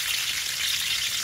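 Garlic sizzling and frying in a pan for pancit puti, a steady, dense crackle that stays loud and even throughout with no voices.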